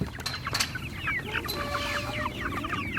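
A flock of chickens clucks and squawks nearby with overlapping, busy calls over a low background rumble.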